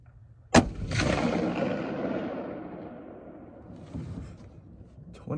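A single sharp rifle shot from a CVA Cascade firing 6.5 PRC reloads cracks close and loud, then a long rolling echo fades over several seconds outdoors.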